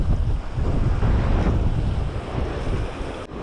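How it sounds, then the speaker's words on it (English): Strong wind buffets the microphone on a Hawaii clifftop above the ocean, a steady roaring gust with surf rumbling beneath, loud and unbroken throughout with no voices. "it's a little windy."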